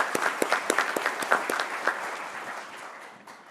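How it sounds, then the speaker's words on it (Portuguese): Audience applause at a business awards ceremony, a crowd of many hands clapping in a quick, fairly steady rhythm that slowly fades toward the end. "A todos, por favor, uma salva de palmas"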